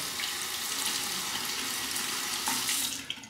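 Tap water runs steadily into a sink to rinse a Parker 64S stainless steel safety razor, a continuous close splashing hiss that sounds alone and tails off at the end as the flow is cut.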